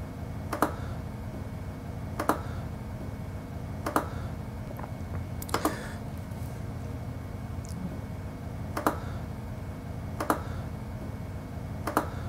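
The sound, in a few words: computer mouse clicking in dental design software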